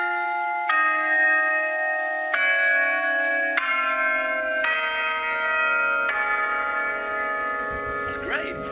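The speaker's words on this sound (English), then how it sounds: "Would you like to sound them?" A tuned ring of eight church bells rung in succession, each strike bright and sustained with long overlapping hum, close and loud, with a brief voice near the end.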